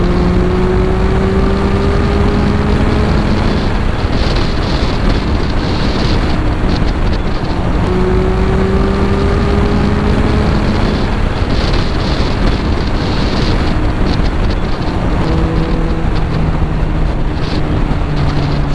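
A Kawasaki Z800 motorcycle engine revs hard and pulls away again and again. Loud, close rising engine notes come in waves about every seven seconds, with rough wind rush throughout.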